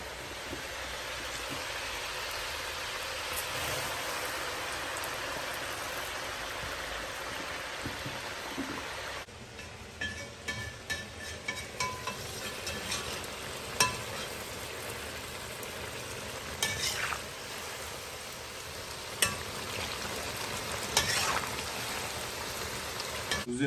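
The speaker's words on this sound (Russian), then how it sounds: "Закидываем в масло и обжариваем около 5 минут." Steady crackling sizzle of eggplant frying in hot oil, with scattered pops and spits growing more frequent in the second half.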